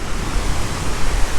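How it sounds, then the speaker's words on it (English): Steady wind rushes and buffets loudly for a brief moment on the Pembrokeshire coastal path, a broad roaring hiss with gusty swells and no voices. "we were expecting it to be extremely breezy and windy, which it is."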